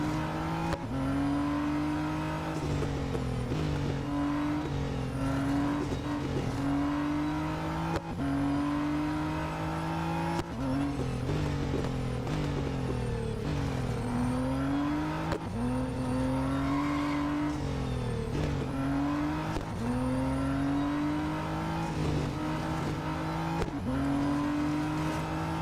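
Race car engines in the Real Racing 3 video game rev and shift without letup, rising and falling through the gears. The tone is loud and buzzy, with brief tire noise between the shifts.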